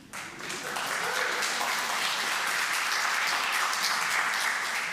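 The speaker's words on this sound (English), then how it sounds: "Wasn't expecting that applause, but I'll take it." Church congregation breaking into sustained applause, a dense wash of many hands clapping that swells quickly and holds steady, heard from a moderate distance with no talking.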